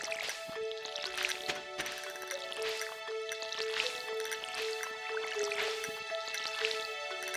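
Watering crops with a watering can in Stardew Valley: soft, repeated splashing drips of pouring water, mixed with a steady, tuneful game music track throughout.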